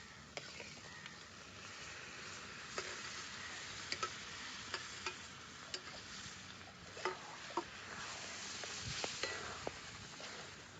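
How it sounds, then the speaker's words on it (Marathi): Cooked horse gram tipped into masala frying in oil and stirred, a soft continuous sizzle with faint scraping and light ticking stirs, quiet and steady throughout with no talk. "आता हे शिजवून घेतलेलं हुलग टाकून घेते त्यात"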